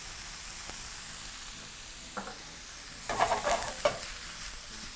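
Broccoli seasoned with parsley, paprika and cayenne pepper is stirred and tossed in a frying pan, a steady sizzling hiss broken near the end by a few louder scraping, rattling tosses.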